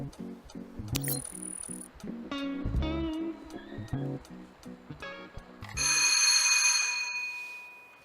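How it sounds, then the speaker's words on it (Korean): A school exam-start bell rings at a civil service test site: a run of bright, sustained electric bell tones with overlapping ringing, building to a loud steady ring near the end. No talking. "무사히 시작벨이 울리고 이렇게 시험은 시작됐다"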